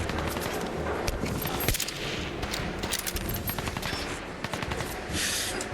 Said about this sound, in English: We are being shot at.